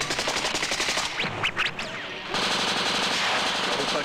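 A machine gun fires in rapid short bursts during a battle scene in a Great Patriotic War film, loud and close, with a brief lull carrying whistling sounds before the dense firing resumes.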